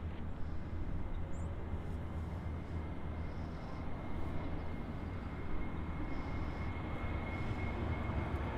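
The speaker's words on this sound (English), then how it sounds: "737-900 flying off to Seattle" A Delta 737-900 airliner takes off from runway 24 left at Los Angeles airport, a steady distant jet roar that holds for several seconds without talk.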